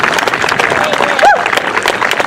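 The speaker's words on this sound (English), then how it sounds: "Let's give another round of applause to Miss Jennifer Holmes" Applause from a crowd at a Women's March rally in Monterey Bay: continuous dense clapping throughout, moderately loud and steady, with a brief voice or whistle cutting through near the middle.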